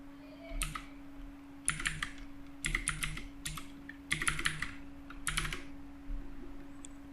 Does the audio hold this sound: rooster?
no